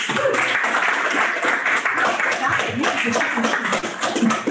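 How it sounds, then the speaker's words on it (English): An audience at a Veteran's Day event applauds, its clapping dense and continuous throughout. Voices come up faintly beneath it. "how about another round of applause?"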